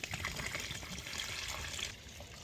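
Water is tipped out of a resin water-filter container in a steady, soft, splashy pour that runs for a couple of seconds and then thins toward the end.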